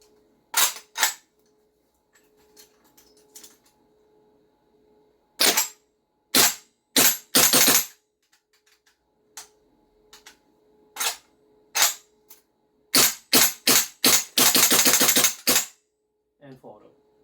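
A GHK AKS-74U gas blowback airsoft rifle fires in test bursts: sharp clacking shots, single and in quick rapid strings, separated by pauses and with a faint hum underneath, close up.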